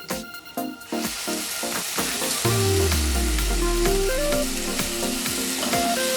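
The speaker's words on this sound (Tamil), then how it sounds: "ஒரு தக்காளி எடுத்து நான் அரைச்சி வச்சுருக்கேன், அதை இதில் விட போகிறேன்." Ground tomato poured into sizzling kadai chicken in a pan, a loud splattering fry with clinks of a spoon at first, then steady sizzling under background music.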